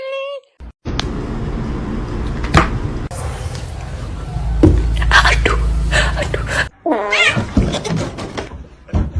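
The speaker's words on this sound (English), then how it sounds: "You meow!" A pet kitten meows repeatedly, the high cries mixed with rustling, thumps and people talking and laughing close by in a home.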